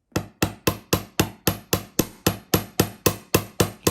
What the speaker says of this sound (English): We're going to start to hammer.